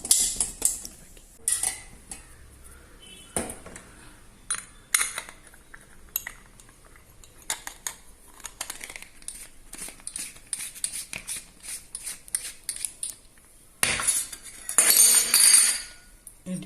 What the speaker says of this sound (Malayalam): നമുക്കത് നൂൽപുട്ട് പാത്രത്തിലേക്ക് നൂൽപുട്ടാക്കി എടുക്കാം